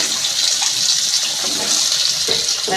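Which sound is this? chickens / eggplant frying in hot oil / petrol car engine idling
eggplant frying in hot oil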